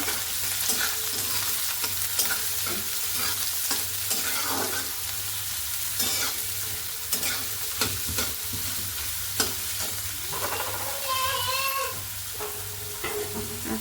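Garlic and onion sauté in a pan for a banana-flower vegetable dish, a steady loud sizzle broken by frequent scraping stir strokes, with no talking.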